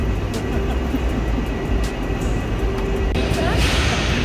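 Train in Portugal, a steady low rumble of a rail car heard from on board or nearby, loud and continuous with background voices.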